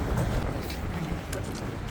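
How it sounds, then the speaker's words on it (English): Gusting wind on the Pacific Crest Trail between Hiker Town and Tehachapi buffets the microphone as a loud, steady, rumbling roar with no voices. "it's actually gusting, so it's kind of shoving us around here"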